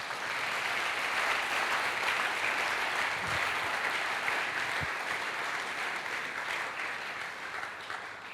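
A church congregation applauding and cheering for Jesus, a sustained, even roar of many hands clapping that fills the room for several seconds and tapers slightly at the end.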